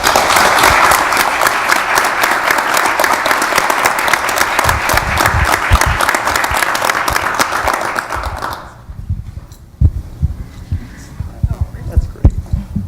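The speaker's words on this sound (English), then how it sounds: "Give her a round of applause." Sustained applause from a county board meeting audience fills most of the stretch, loud and steady, then cuts off sharply, leaving quieter room noise with a few scattered claps and thumps.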